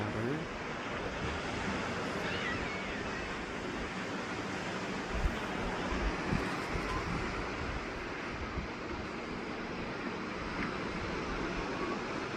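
Surf washes in a steady broadband wash near a pier, waves rolling continuously onto the beach with a light breeze, faint and a little distant.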